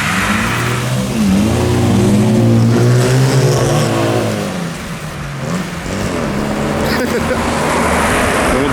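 A BMW and a Fiat Panda accelerating hard in a race, engines revving loudly and rising in pitch as they change gears, while people shout and talk over the noise close by.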